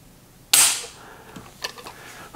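A Sig Sauer MCX-Spear LT 5.56 pistol trigger is pulled against a trigger weight gauge, giving one sharp, close metallic snap, followed by quieter clicks and handling sounds.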